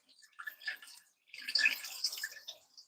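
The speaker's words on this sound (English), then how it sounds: "I'm going to wash out the glass." Water splashes and trickles in a sink as a glass is washed, in two uneven bursts with a brief pause between, close and moderately loud.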